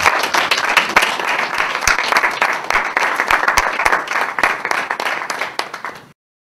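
An audience at an anniversary celebration of a Congolese resistance group applauds in a dense, steady wash of claps that carries on for several seconds before cutting off.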